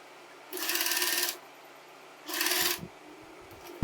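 A sewing machine stitches the neckline of a kurti in two short bursts of rapid whirring, each lasting under a second, separated by quiet pauses with light handling noises.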